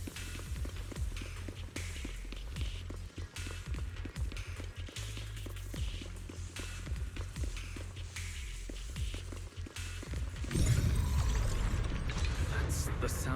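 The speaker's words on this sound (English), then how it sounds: "That's the sound of machinery." Mechanical clanking and ratcheting machinery in the video game Zenless Zone Zero, a steady busy clatter with gear-like ticks throughout, swelling louder and denser near the end, heard alone without talk.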